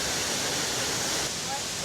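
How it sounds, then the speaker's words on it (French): A waterfall pours as a dense, steady rushing roar of broadband water noise, close and loud with wind-blown spray, unbroken throughout. "Elle est vraiment belle, cette cascade."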